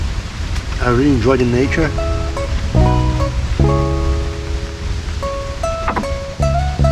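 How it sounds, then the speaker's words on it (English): Steady broadband rain and wind noise fills a solo bush campsite, continuous and fairly loud, with someone speaking over it throughout. "I'm in the bush, I'm alone, and it's raining, windy, and smoky."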